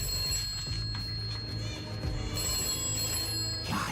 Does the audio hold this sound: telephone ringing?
yes